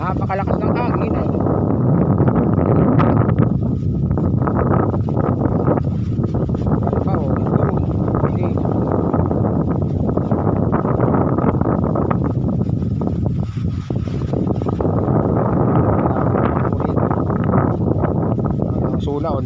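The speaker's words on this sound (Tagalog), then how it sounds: "Napakalakas ng hangin eh" Strong wind buffets the microphone in a steady, loud roar, with a person talking faintly beneath the rumble.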